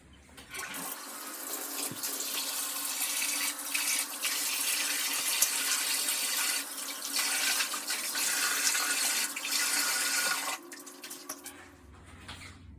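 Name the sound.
rinsing a cleaning rag with clear tap water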